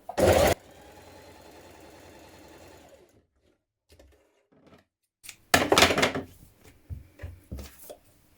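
A sewing machine ease stitching the front bodice of a jumpsuit, running in a steady whirring burst for a few seconds, followed by quieter handling clicks and a second louder flurry of stitching and fabric movement nearby.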